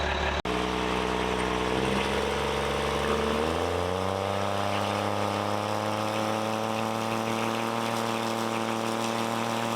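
Race truck engine revving hard with a tight torque converter, loud and continuous, pitch climbing in steps before settling into a steady high-rev roar close by.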